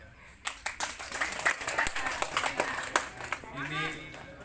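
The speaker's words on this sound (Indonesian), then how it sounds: "Dan tentu semua yang hadir kita tepuk tangan semuanya." Scattered clapping from a political gathering mixes with voices and crowd noise, irregular and moderately loud, with someone talking near the end.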